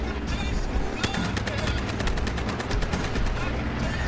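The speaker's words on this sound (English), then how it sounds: "Never understood why people shoot the guns all the time whenever you're driving to the target." Battlefield Hardline gunfire crackles in rapid automatic bursts during a drive in an SUV, with repeated sharp shots clustering in the middle amid constant background noise.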